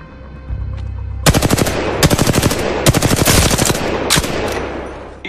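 Automatic weapon fire in the Apex Legends video game: loud, close bursts of rapid shots in several strings separated by short pauses, with no voices.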